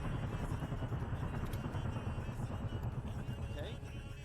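Helicopter in the video game Arma 3, a constant low rotor and engine drone that holds steady throughout and eases slightly at the end, with voices talking over it.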